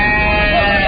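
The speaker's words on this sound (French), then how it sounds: "des moutons à perte de vue" Sheep bleat in a wavering, close, fairly loud cry that fills a brief moment.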